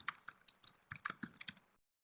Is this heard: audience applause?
no